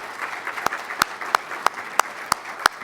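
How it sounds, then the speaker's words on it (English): Applause at a volunteer service awards event comes through as a faint wash of clapping, punctuated by sharp, regular close claps about every third of a second. "Please join me in a round of applause for these individuals."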